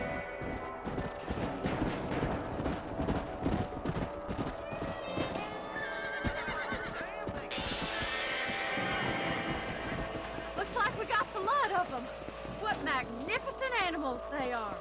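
A horse in the Red Dead Redemption video game clip-clops and neighs loudly with repeated whinnies and hoofbeats, mixed with game voices speaking over it.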